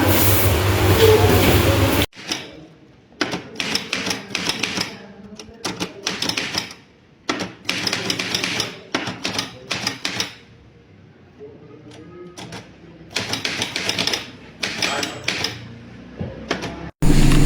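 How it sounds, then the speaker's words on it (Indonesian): Manual typewriter keys clacking in irregular bursts of rapid strikes separated by short pauses, close and crisp, as the Indonesian proclamation text is typed in 1945. "Sayuti Melik pun mengetik teks tersebut."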